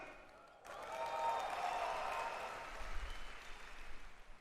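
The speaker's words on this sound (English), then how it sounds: "3 cheers for all of you here." A large crowd at a big event breaks into cheering and applause, a broad wash of clapping that swells quickly, peaks, then slowly thins while still going strong.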